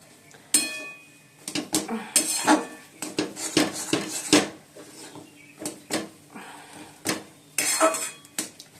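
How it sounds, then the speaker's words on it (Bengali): Pots, pans and metal utensils being scrubbed and handled, with irregular clanks, clinks and knocks close by and a voice talking between them. "হাঁড়িটা মাজবো, দেখো বাসনগুলো রয়েছে"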